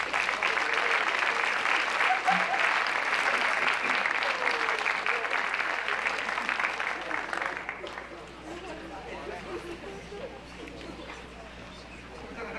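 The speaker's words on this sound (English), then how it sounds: "Can we please give them a round of applause?" A large audience at a 2022 academic awards ceremony applauds students earning honor roll and high honor roll, a dense, steady wash of clapping that holds strong for several seconds before thinning out and fading lower.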